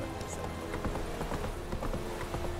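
Roach, Geralt's horse in The Witcher 3: Wild Hunt, galloping with a quick, even clip-clop of hooves over an ambient game background, close and clear.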